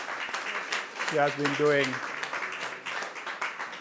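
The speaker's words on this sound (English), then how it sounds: "I'd love us to give Caroline a round of applause" A round of applause rises from the audience at GraceKennedy Limited's annual general meeting, a soft wash of clapping running beneath a speaker's amplified voice that continues talking over it.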